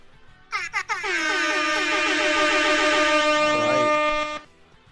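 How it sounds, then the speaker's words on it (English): A loud, sustained air horn blares for several seconds at a sports match after a couple of short opening blasts, close by and dominating everything else. "Let's throw them some more air horns."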